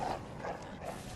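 A dog in the Bloodborne video game barks a few times, faint and somewhat muffled beneath a steady game soundscape.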